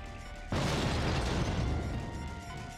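A bomb blast on a tank in the video game Tonight We Riot: a sudden loud broadband boom that stays roaring and rumbling for about two seconds before slowly easing off, with no talk over it.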